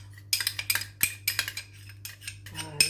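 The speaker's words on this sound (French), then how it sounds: "je mélange l'agar-agar" Metal utensil clinking and scraping inside a Compact Cook Pro bowl while mixing agar-agar into apricot jam, a quick series of close, sharp taps and scrapes with brief gaps, alone without talk.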